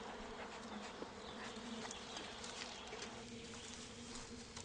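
A swarm of bees buzzing, alarmed and masked by smoke, a continuous dense hum of many insects close by.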